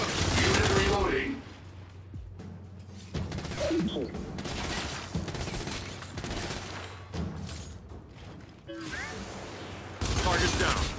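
Weapon reloading in Gears 5 produces mechanical clicks and ratcheting clacks among bursts of gunfire, with a synthetic voice speaking between the shots.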